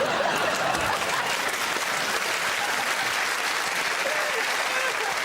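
A TV panel show audience applauds in a steady wash of clapping that runs without pause, moderately loud and evenly sustained throughout.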